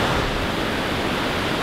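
Glacial creek water rushes in a steady, close, broadband wash near a glacier in Wrangell-St. Elias National Park, with no voices.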